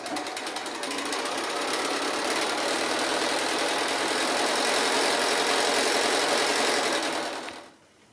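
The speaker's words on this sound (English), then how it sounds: "I'm just going to go to the machine and stitch this on" A sewing machine stitches fabric down onto a quilt-as-you-go block made from leftover fabric and batting, running steadily and close for about seven seconds before stopping, with no talking.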